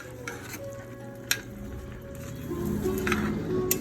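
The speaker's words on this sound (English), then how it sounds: "I'm going to slowly kind of mix together all of the flavors" A spoon stirs vegan curry with broth in a pot: soft scraping and sloshing with a few light clinks against the pot, close by and growing slightly louder toward the end.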